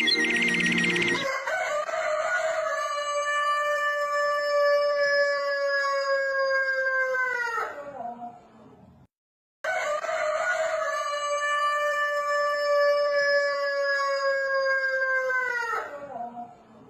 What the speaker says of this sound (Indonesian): satu rakaman video memaparkan seekor ayam jantan berkokok di atas katil ketika tuannya sedang tidur